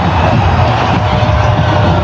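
Stadium crowd at a Pakistan vs Sri Lanka T20 cricket match roars and cheers steadily after a boundary, a dense, sustained wash of massed voices with scattered whoops throughout.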